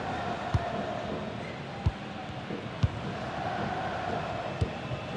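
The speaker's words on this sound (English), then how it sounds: "just listen to this crowd. They want a bit more." A football stadium crowd urges its team on late in a match. The roar is steady and broad, with a few sharp thuds scattered through it.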